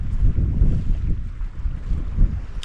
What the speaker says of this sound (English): As you can probably tell, that southwesterly wind has picked up